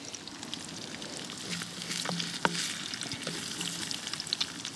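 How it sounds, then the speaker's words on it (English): Eggs fry in a pan over a camp burner with a steady, fairly quiet crackling sizzle and scattered small pops, including one brief sharper tick near the middle. "All right, eggs are cooking."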